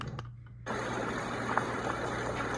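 Water setting on a Dreamegg white noise machine, a steady, even rush of flowing water that starts abruptly after a brief, quieter moment and carries on at a constant level.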